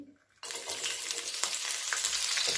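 Chopped green chillies hit hot oil and start sautéing with a sudden loud sizzle that holds steady and close, broken by light crackles and stirring.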